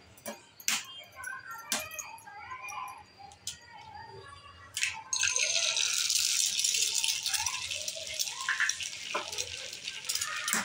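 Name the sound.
eggs being cracked into a pan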